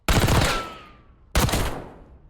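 An LC10 submachine gun fires in the video game Black Ops 6, two loud, close automatic bursts with the first echoing away before the second rattles out.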